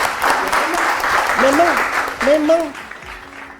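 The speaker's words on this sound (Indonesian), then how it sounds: "Beri tepuk tangan dong biar nggak tegang." Studio audience applause on an Indonesian talk show, a dense wash of clapping that carries the whole clip while someone talks over it.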